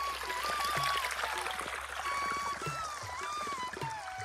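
Water flowing and trickling steadily outdoors near a home, a continuous soft stream with faint bird calls over it and no talk.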